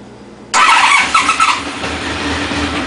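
A restored 1992 Honda VFR750 RC36 motorcycle engine catches after a quiet moment and settles into a loud, close, steady idle, with a brief rise in the first second before holding even.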